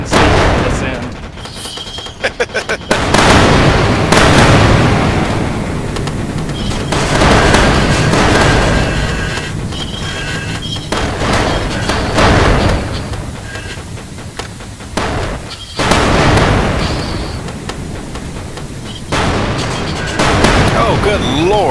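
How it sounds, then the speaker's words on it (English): Heavy booming blasts rumble continuously as ships explode in Space Engineers large-ship combat, loud and dense with repeated deep impacts and rolling thunder-like roar, with a voice occasionally speaking over the din. "Good lord, the explosion that I can see from this end."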